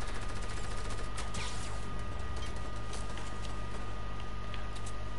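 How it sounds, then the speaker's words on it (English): Video game gunfire crackles in rapid bursts and scattered sharp shots, a dense fusillade that rattles on over a steady low background hum throughout. "Gunshot."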